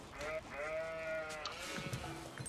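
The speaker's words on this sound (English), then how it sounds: "I have to get these sheep back, and I get them back pretty much just in the nick of time" Sheep in the Age of Empires strategy game bleat in two drawn-out, wavering calls, clear and fairly close, over a steady low game background.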